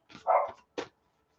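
A dog gives two quick barks close by, the first longer and fuller, the second short, then falls quiet.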